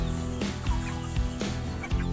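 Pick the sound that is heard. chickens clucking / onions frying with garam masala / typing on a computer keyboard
chickens clucking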